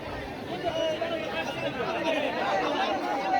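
Dense crowd chatter fills a packed temple festival during a kalash installation ceremony at Bal Bhairavnath temple, a steady close hubbub of many overlapping voices with no single speaker standing out.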